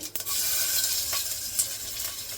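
Crushed garlic drops into hot oil with cumin in a home kitchen pan, giving a steady bright sizzle that swells after a brief opening clatter and holds loud and close with small spatters throughout.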